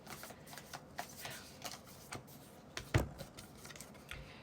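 Tarot cards are shuffled and drawn, soft papery riffles and slides repeating at an uneven pace close by, with one sharper snap of a card near the middle, and no voices.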